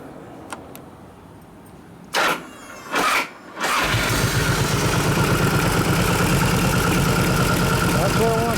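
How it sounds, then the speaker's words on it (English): The starter on a 1989 93ci Harley panhead stroker motor in a Softail grinds in two short bursts. The engine then catches and keeps running with a loud, steady, rapid beat. "Hard on that starter."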